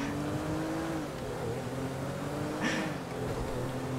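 A car is driven in the video game GTA 5 during a race, its engine humming and revving at moderate level with a short burst of higher noise midway, no talk present.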